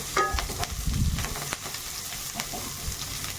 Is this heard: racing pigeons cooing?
no